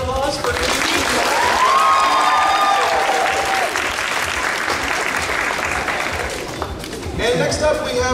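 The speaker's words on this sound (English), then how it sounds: "One more big round of applause for Kiki." A convention crowd at an anime costume contest claps for a cosplayer, steady loud applause lasting most of the stretch before tapering briefly and picking up again near the end.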